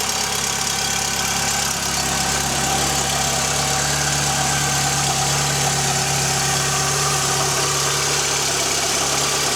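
Mk2 Golf engine idling, a steady, loud, close-up mechanical hum with a constant low drone and no changes in revs across the whole stretch, no voices.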